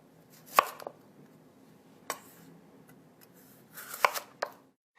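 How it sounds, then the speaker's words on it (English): A knife slices lengthwise through a cucumber on a cutting board, giving a few sharp, close chopping strikes with brief crunchy scrapes between them in an otherwise quiet kitchen. "I'll cut it in half, then again lengthwise, and lengthwise again."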